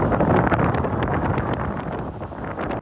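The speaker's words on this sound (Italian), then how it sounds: "Il vento che spira su Palermo è fortissimo" Strong wind gusts sweep over Palermo and buffet the microphone with continuous, loud, rushing roars that swell and ease. No voices are heard.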